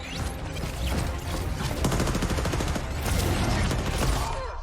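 Gunfire in the Apex Legends video game, dense and continuous like fireworks: rapid overlapping bursts and rattling shots fill the whole stretch at steady loudness, with no talking.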